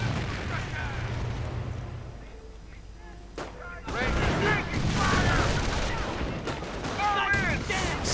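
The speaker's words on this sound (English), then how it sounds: "Sniper fire, ever fun." Sniper fire in a WWII strategy game, rising out of a constant low battle rumble as sharp cracks and thumps amid chirping effects, with a commentator talking over the top throughout.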